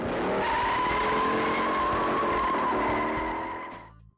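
Tires screech loudly in a long, sustained skid during a film car chase through San Francisco streets, the squeal holding steady before cutting off abruptly.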